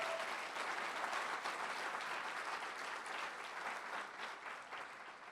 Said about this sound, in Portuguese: Você pode dar um aplauso para o Senhor?